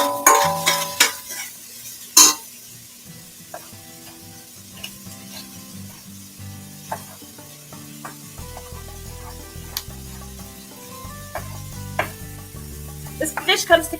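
Onion heating in hot oil in a home kitchen pan for a creamy white bean chili, giving a steady soft sizzle under scattered utensil clinks and stirring scrapes, with no one talking.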